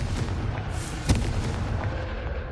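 A Confringo blast curse explodes in the video game Hogwarts Legacy, a deep booming burst with a sharp thump in the middle, set against a dense, rumbling battle bed.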